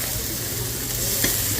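Onions are frying hard over high heat in reused oil left from frying fish, giving a dense, continuous close-up sizzle with a faint clink near the end.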